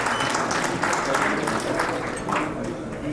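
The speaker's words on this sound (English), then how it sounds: "I think they deserve a big round of applause" Applause for cash prize winners at a travel company's 25th anniversary celebration, a steady crowd clapping that fills the room at moderate volume, with murmured voices faintly beneath it.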